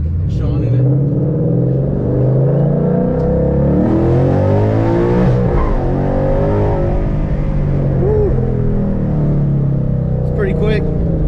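A Ford Mustang engine rumbles loudly from inside the cabin and revs up and down through the ride, with a voice talking briefly under the engine noise.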